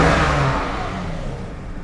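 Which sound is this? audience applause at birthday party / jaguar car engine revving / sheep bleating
jaguar car engine revving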